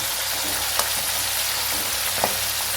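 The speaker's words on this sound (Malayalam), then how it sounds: "നമുക്ക് പെരട്ടിയെടുക്കാം അതിൻ്റെ കൂടെ കരിവേപ്പില കേട്ടോ" Yam pickle being stir-fried with curry leaves in hot oil, a steady close sizzle and crackle running throughout with a couple of brief louder pops and stirring scrapes, no voices.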